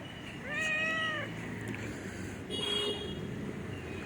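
A nervous cat gives one clear, drawn-out meow at close range and a fainter, shorter mew a couple of seconds later.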